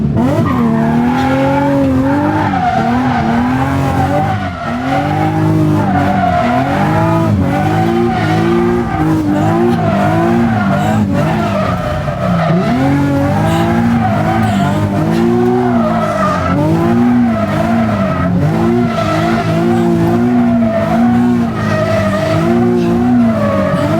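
A manual car driven hard, its tires squealing and skidding loudly and almost without pause, with engine revs rising and falling beneath the screech, close and dominant for the whole stretch.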